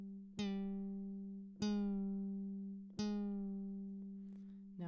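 Chromaphone synthesizer notes with pitch slide: three identical plucked, bell-like tones struck at even intervals, each gliding briefly into its normal pitch and then ringing and decaying slowly, clean and alone.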